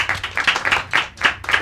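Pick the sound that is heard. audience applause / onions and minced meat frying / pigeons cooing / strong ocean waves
audience applause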